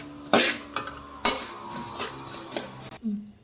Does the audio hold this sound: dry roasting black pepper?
yes